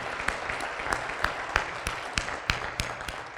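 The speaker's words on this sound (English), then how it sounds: "I want to give them another round of applause" Audience applause for students at a university President's Council dinner, a thin round of clapping with a few sharp, distinct claps standing out in a loose, regular rhythm over soft room noise.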